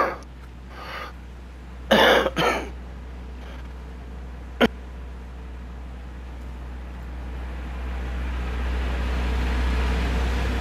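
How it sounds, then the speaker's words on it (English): A single cough followed by a second, shorter one, loud and close against low steady background hum, then a sharp brief click; no talking. "Sorry about that, had a cough developing."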